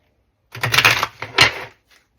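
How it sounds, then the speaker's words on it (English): Two quick riffling bursts of cards being shuffled, close and crisp, with a short pause between them. "going to give them a nice little shuffle"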